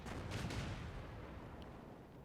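A tank gun in World of Tanks fires a round at an M7 Priest, one heavy boom near the start rolling into a long, faint rumbling decay.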